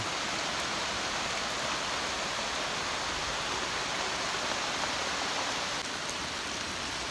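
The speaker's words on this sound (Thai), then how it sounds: "ฝนตกแห้ง" Nighttime rain pours over a deserted farm shelter in the woods, making a constant broadband rush that stays unchanged throughout with no speech.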